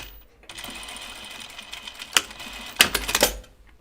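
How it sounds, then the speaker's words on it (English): A sewing machine stitches a hem on a 1940s-style dress in a short, close run, ending in a few quick clattering stitches. "I am just going to place this under here like that. And stitch it right in that hem stitching."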